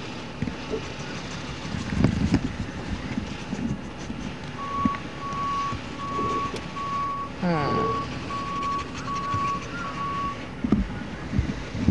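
Outdoors after a tornado in Kissimmee, a garbage truck collecting trash sounds a steady series of evenly spaced reversing beeps over engine rumble and wind noise on the microphone, with people talking nearby.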